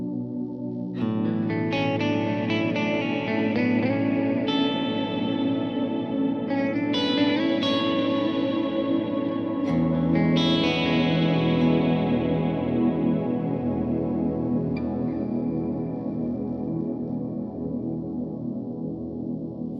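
A guitar through a Kemper profiler's reverb sounds several strummed chords and notes over about twenty seconds, each blooming into a long washy tail whose brightness fades while a deep, rumbling low decay persists throughout.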